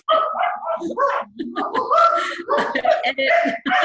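Several dogs barking in quick, overlapping bursts, close and loud, with short yips mixed in and laughter or chatter alongside.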